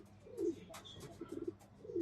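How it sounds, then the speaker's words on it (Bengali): Pigeons of several breeds, including tiger and racer types, coo softly on a rooftop, with repeated low throaty coos and a faint chirp, fairly quiet and close. "এখানে অনেক ধরনের কবুতর আছে, ঢাকা থেকে আনা হয়েছে"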